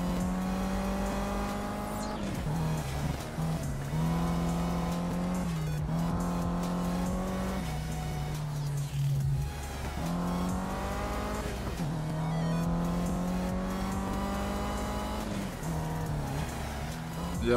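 A racing car engine in Project CARS revs hard and climbs through the gears, with repeated rising and dropping tones and occasional tire squeal. The engine is loud and steady throughout, with a voice heard faintly under it.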